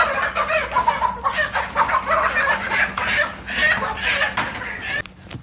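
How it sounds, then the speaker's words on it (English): Live chickens cluck and chatter continuously at a farm supply store in Portugal, a busy, fairly close flock of overlapping calls with a brief thump near the end. "They got live chickens here."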